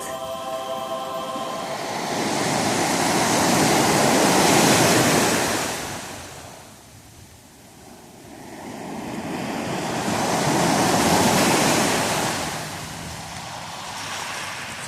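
Ocean waves washing onto the shore in Gaspésie, two broad swells of rushing surf rising and receding about six seconds apart, close and loud, with wind buffeting the microphone and no voices.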